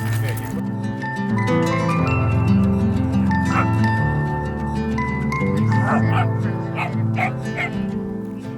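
Several dogs playing outdoors, giving short barks, yips and whimpers in bursts over a steady mechanical hum, with people talking throughout.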